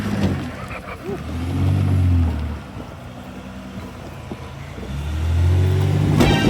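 A RAM TRX truck crawls over an off-road boulder obstacle on a mountain pass, its engine surging in two loud, low revving bursts with a quieter idling lull between them.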